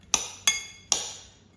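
A utensil clinks sharply against a bowl while pineapple salsa is mixed, four bright ringing taps spaced roughly evenly, each decaying quickly into near silence.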